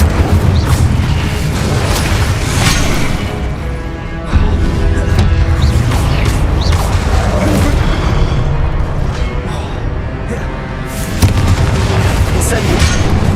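Fiery Incendio spells are cast repeatedly in Hogwarts Legacy, loud booming blasts and crackling bursts layered over continuous game combat noise, with a brief dip around the middle.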